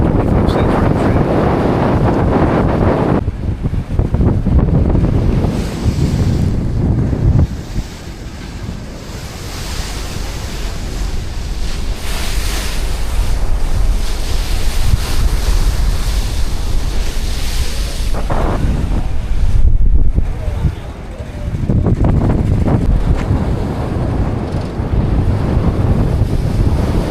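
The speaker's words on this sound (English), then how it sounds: "Windy out here." Strong wind buffets the microphone over crashing ocean surf beside a historic lighthouse in Washington state, a loud continuous roar with gusting swells and brief dips.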